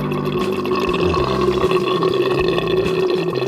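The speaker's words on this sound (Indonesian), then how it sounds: "Begitu kita buka tadi dari keran yang ini, itu langsung mengalir ke sini" Tap water flows through an irrigation line to young Musang King durian trees in an orchard, a steady close gurgling rush of liquid with bubbling, burbling churn throughout, no voices.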